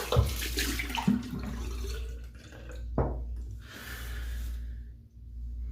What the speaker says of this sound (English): I'm gonna rinse this mug out.